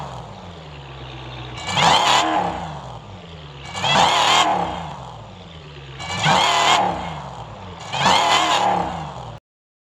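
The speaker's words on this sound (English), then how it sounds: "the best V8 engine sounding car in car parking multiplayer 1 is the Dodge Charger." A 2018 Dodge Challenger SRT Demon V8 in the Car Parking Multiplayer game revs four times at even intervals, each rising roar falling back to a rumbling idle between bursts.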